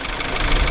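A BMW F30 car engine idles steadily at close range with no other sound, a brief low, even rumble.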